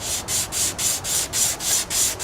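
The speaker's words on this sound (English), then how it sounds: "You do a great job sanding evenly" Sandpaper rasps back and forth by hand in quick, even strokes, about four per second, close and steady.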